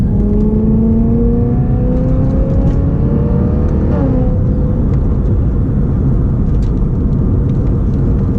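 Modified 2008 BMW M3 with back seats removed, accelerating hard from inside the cabin: a loud engine note climbs steadily in pitch, drops briefly at a gear change around four seconds, then keeps pulling with steady road roar, no talking.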